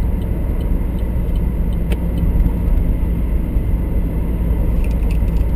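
A 2010 Camaro fitted with Hurst paddle shifters cruises along a road at rush hour, giving a steady, close, low engine and road rumble that holds level throughout with no talk over it.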